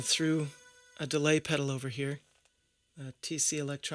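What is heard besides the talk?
No distinct noise like a dog, phone or traffic.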